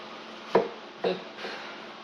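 A knife chops through zucchini on a cutting board in three distinct strokes, the first two crisp and close, the last softer, with quiet between cuts.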